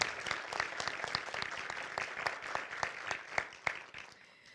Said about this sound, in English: We should applaud that right there.